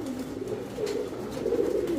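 Pigeons, including red-and-white fancy birds, coo in a steady low murmur that continues throughout, close and moderately loud, with no talking.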